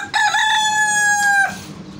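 A rooster, one of several farm chickens, crows once loudly and close by, a single drawn-out cock-a-doodle-doo lasting over a second before fading into quiet background.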